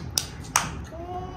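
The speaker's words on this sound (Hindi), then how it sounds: "तालियां बजाओ, तालियां" A child at home makes two sharp, separate hand claps about half a second apart. Both are close and fairly quiet, with a low background hum between them.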